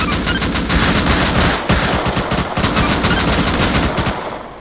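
Rapid automatic gunfire in the shooting game Unturned, a loud, dense stream of shots with a short pause around the middle before the firing resumes and then tapers off.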